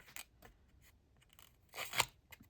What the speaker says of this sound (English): That's why I could do it with my scissors.